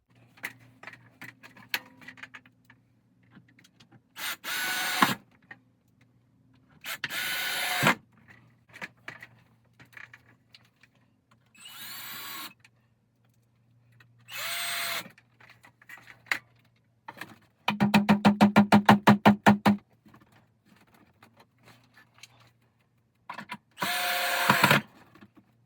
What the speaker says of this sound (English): got to put some screws in